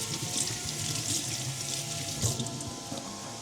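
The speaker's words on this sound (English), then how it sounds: "We wash our knife to get the butter." A kitchen tap running as a knife is rinsed under the water while cooking, a steady close splashing stream with small clinks and no voices.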